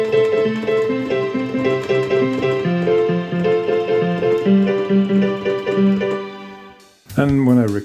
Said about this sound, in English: that is an excellent patch to create a piano loop